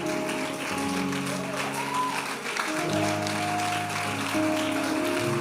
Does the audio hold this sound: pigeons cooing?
no